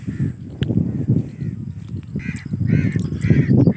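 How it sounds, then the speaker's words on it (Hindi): Several crows caw in short harsh bursts, some overlapping, over a steady low outdoor rumble; the calls sound moderately distant, in a village in the early morning. "ये देखें ये कौवे की आवाज़ सुने और उड़ भी रहे हैं"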